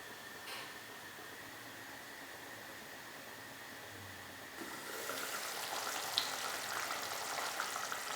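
Chicken curry gravy simmers in a covered pan with a faint, steady hiss that grows louder and busier partway through, with occasional soft pops.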